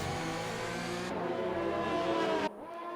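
F1 car engine in a racing video game at the Brazil round, a steady high-revving drone with harmonic engine whine, loud and continuous, with a brief shift in pitch near the end.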